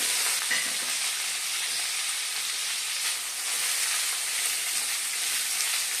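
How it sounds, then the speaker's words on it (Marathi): Onions sliced lengthwise sizzle steadily in hot oil in a pan while cooking for a dhaba-style cashew curry, a dense continuous frying hiss at close range with no talk. "सोनेरी रंग येईपर्यंत आपल्याला हे कांदे तेलामध्ये व्यवस्थित परतून घ्यायचे"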